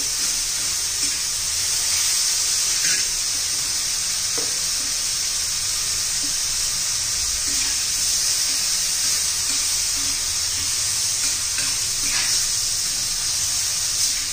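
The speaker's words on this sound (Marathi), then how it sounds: "आता त्यातच भरपूर अशी कोथिंबीर घालून घेऊया आपण. पण चांगली परतून घेऊया." Coriander and tomatoes sauté in a pan for an Andhra-style tomato chutney, giving a steady, close sizzle with faint stirring scrapes throughout and no talk.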